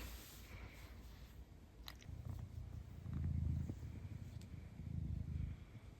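A cat purring close to the microphone, a low rumbling pulse that swells in a few slow waves, faint overall, with a couple of small clicks and no talking.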